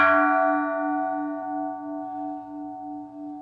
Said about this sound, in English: this is a bell that I brought from Japan